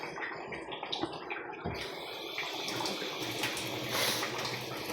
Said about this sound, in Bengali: হালকা একটু জল দেন